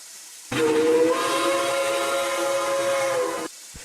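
An American steam whistle from the Roblox game RO-Scale Sandbox gives one loud, sustained blast with a hissing attack. It holds a steady chord for about three seconds, then cuts off cleanly.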